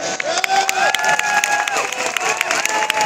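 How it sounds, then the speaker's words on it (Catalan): Crowd clapping and cheering at the Barcelona carnival parade on La Rambla, dense and lively, with whistle-like tones and shouts rising over the applause for about three seconds. "Un fort aplaudiment pels ganxets d'arreu"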